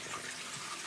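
Water runs steadily from a tap, a continuous close hiss with no talking over it.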